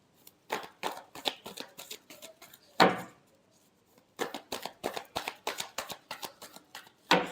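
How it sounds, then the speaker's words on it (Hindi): Tarot cards being shuffled by hand in rapid riffling bursts, close and crisp, with a brief pause and one louder slap partway through. "last shuffle"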